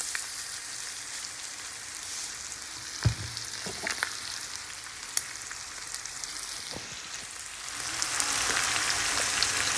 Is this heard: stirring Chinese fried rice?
yes